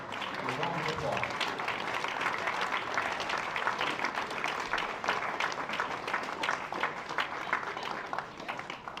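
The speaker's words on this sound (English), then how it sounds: "Please give our seniors and their parents a round of applause." A crowd at a high school baseball game claps for the senior players and their parents, a sustained round of applause that stays loud and steady throughout. Faint cheers and a little background chatter mix in.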